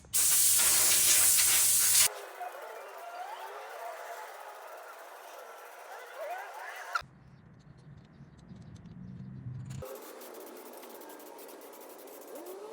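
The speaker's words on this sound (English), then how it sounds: "I'm going to take it outside and spray paint it with this chrome spray paint I have." A short, loud hiss of chrome spray paint from an aerosol can, sprayed outdoors onto a sanded headlight amber reflector part for a 2007-2008 Honda Element SC. Quieter outdoor background and some voices follow.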